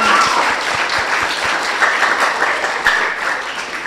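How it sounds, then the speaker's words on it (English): A school audience claps at a Year 6 graduation celebration, a loud, full round of applause from a large crowd with some sharper nearby claps standing out. "let's give them a clap"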